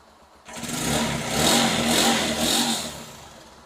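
A Suzuki GD 110S motorcycle engine turns over and catches, then settles into a steady, close idle with a slight rise and fall in revs.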